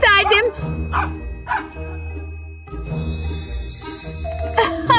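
Dog barks ring out amid music and chiming jingles during a prize-wheel game, where a toy dog is won; short yelps come early and again near the end, with talk in between.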